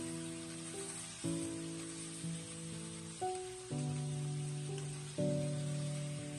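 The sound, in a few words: stir-frying cured pork with chopped mustard stems in a wok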